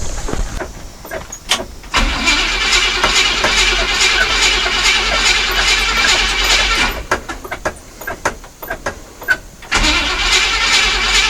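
The engine of a 1962 Chevy C-10 pickup cranks, catches and runs rough, then cuts out, cranks again, stumbles and restarts, loud and close.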